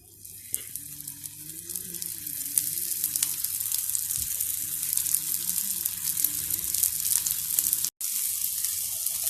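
A steady, close sizzle of oats cutlets frying in oil on a hot tawa, continuous crackling with small pops throughout and one brief break near the end.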